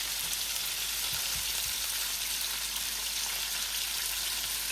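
Chicken cutlets fry slowly in a pan, a dense, even sizzle that holds steady and close throughout with no talking.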